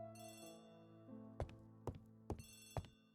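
Telephone ringing in the video game The ABC Murders, a sustained tonal ring over background music followed by four sharp evenly spaced rings.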